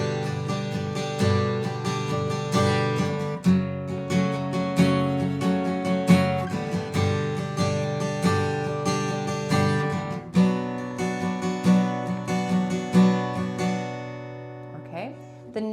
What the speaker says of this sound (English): Now the strumming pattern is an extended pattern, and it sounds like this.